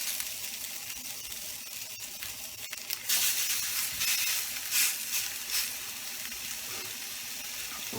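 Striploin steaks hitting a smoking-hot cast iron pan, with a steady hiss that swells into a loud, bright sizzle partway through and keeps going, heard up close with no talking.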